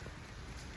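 Rain falling in a garden in Riyadh, a steady dense hiss of drops on surfaces, continuous and even, no voices.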